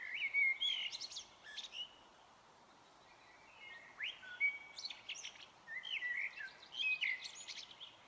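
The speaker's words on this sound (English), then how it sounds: "Listening to the bird song," Small birds chirp and trill in scattered phrases over a quiet background, sounding fairly close and clear, with no voices.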